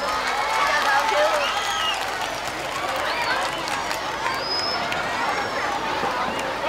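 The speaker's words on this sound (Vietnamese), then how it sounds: "cho một tràng pháo tay lớn đi các bạn thiếu nhi ơi." Big round of applause from children at a parish lion dance performance, dense steady clapping mixed with crowd hubbub, excited voices and high shouts, loud and continuous.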